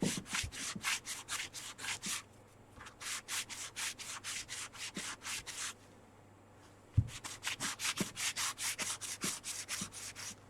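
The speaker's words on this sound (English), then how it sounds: "I just use the sandpaper" Sandpaper rubbed over a carved stone name seal in quick rhythmic bursts of close scratchy strokes, pausing briefly twice, with occasional light taps between passes.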